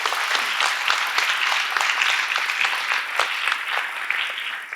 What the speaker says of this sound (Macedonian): аплауза молам